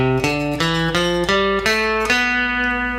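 Single instrument playing a B Locrian scale as a series of clear, separately struck notes, each ringing briefly before the next, ending on a longer sustained tone, with no talking.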